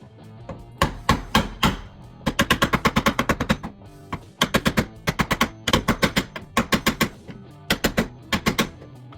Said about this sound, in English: So all we're trying to do is tap that back into place and kind of pull that hinge back to where it needs to be.